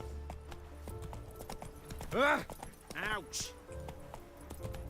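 Roach the horse's hooves clip-clop across the ground in The Witcher 3, a steady trotting rhythm beneath game sounds, with a voice speaking over it and a brief shout.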